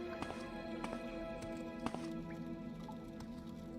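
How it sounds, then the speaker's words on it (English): Footsteps in The Elder Scrolls III: Morrowind, a faint irregular series of soft thuds and clicks, about six steps spread across a quiet, hollow-sounding background. "Hearing footsteps."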